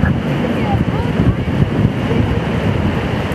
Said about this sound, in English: It's very windy today, so we won't be swimming